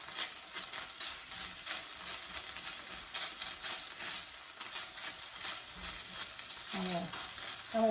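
Chicken sizzles and fries in a Le Creuset skillet, a steady crackling hiss with occasional stirring scrapes and a soft clunk near the end.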